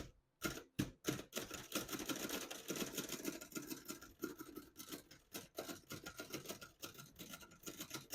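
Typing on a 1937 Remington Noiseless Portable typewriter: a rapid, close run of soft, muted key clicks in irregular bursts, with brief pauses between groups of strokes.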